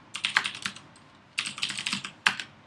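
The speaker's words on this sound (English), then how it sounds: "let me type my password." Password typed on a computer keyboard: two short bursts of rapid, close key clicks separated by a brief pause, ending with a firmer keystroke, quiet room, no talking.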